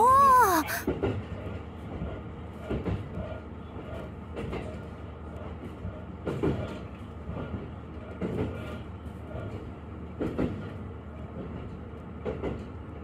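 A train runs on the Kururi line in Chiba, a steady low rumble with regular clickety-clack wheel knocks on the rail joints, heard from inside the car after a brief tone at the start, with no talk.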